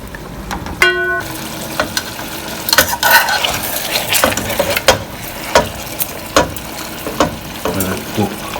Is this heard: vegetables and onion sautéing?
yes